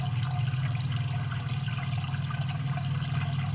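Water drains steadily out of a catfish larval rearing tub with a low, continuous gurgling rush, close and even throughout, with no voices.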